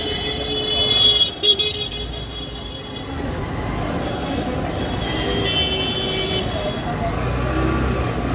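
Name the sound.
vehicle moving slowly through crowded Varanasi market street with horns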